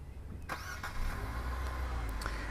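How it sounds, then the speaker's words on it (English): A 2018 Nissan Rogue Sport engine starts by remote start from the key fob: brief cranking clicks, then a low, steady idle rumble, heard close and fairly quiet with no talking. "This car comes equipped with one of my favorite features, which is remote start, and I'm going to demonstrate that now."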